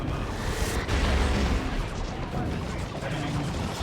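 Eldar Fire Prism tank blasting a Chaos Predator in a Dawn of War 2 battle, a dense roar of heavy fire and explosions swelling around the one-second mark, with a commentator talking over it.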